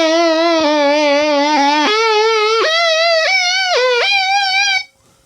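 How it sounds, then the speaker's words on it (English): A motor pedal set to vibrato processes a buzzy, sustained synth-like note whose pitch steps and wobbles as the physical motor speeds up and slows down, loud and up close before cutting off abruptly. "Listen to actually what the motor, the physical motor, is doing."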